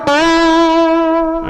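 A single sustained electric guitar note, bright and harmonically rich with a sharp pick attack, ringing on with slight vibrato for over a second before cutting off, loud and close with nothing else audible.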